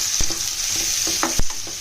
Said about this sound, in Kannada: ಇದನ್ನು ನೀಟಾಗಿ ಫ್ರೈ ಮಾಡ್ಕೋಬೇಕು. ಸೊ ಆನಿಯನ್ ಆಲ್ಮೋಸ್ಟ್ ಫ್ರೈ ಆಗಿದೆ.